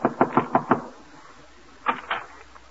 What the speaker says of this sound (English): she's knocking at the door